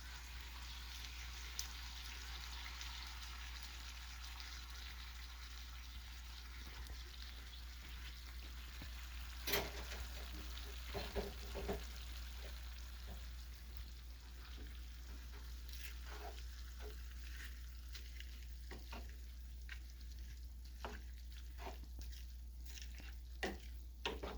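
Home canned tomatoes go into a frying pan, giving a faint, steady frying hiss over a low hum, with scattered soft pops and one sharper splash partway through. No one speaks.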